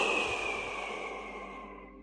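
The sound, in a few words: forceful whooshing exhale through the mouth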